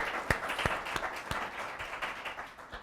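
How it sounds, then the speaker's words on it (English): Conference attendees at a land and property rights event give the panelists a round of applause, a lively burst of clapping with a few sharp close claps standing out before it slowly thins. "Join me in giving them a round of applause."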